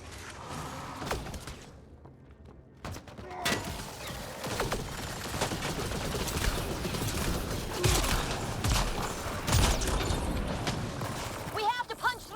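Rapid gunfire and clanking mechanical impacts from a sci-fi firefight in the shooter game Mass Effect Andromeda, with bursts and sharp cracks throughout and voices speaking over the action.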